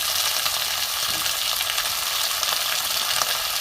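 Beans, eggplant and potato strips fry in hot oil with black cumin for a bottle-gourd-stem chorchori, giving a loud, steady, close hissing sizzle with faint stirring scrapes and no talking.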